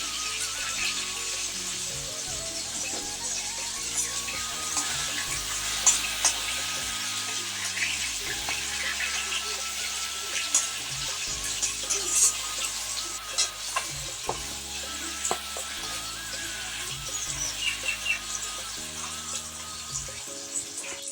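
Vegetables seasoned with chili powder, turmeric and salt sizzle in a pan while being stirred, giving a steady frying crackle punctuated by repeated scraping and clattering of the spoon against the pan.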